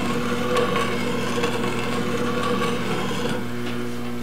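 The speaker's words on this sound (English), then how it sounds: "you can see how the curls are just rolling right off of that cut" A skew chisel cutting wood on a lathe, sending curls off the cut: a continuous close, loud rasping hiss over the steady hum of the spinning lathe.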